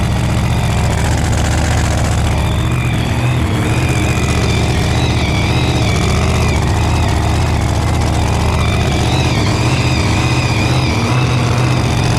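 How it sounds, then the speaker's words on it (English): A Pro Mod race car engine idles too fast at a steady pace, running loud and close throughout with a constant droning hum and no pauses. "It's idling too fast."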